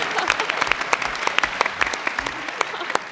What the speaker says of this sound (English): Somebody want to applaud? Yeah, Please, feel free.